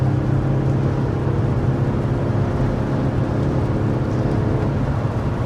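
A BMW 840d car accelerates with a steady, loud engine drone that holds throughout, with no talking over it.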